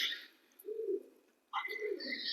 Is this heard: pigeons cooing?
yes